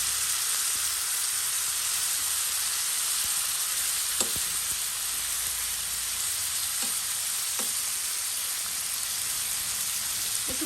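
Half a kilo of loitta fish sizzles in a pan with a loud, steady, hissing fry, broken by a few faint knocks and scrapes of stirring.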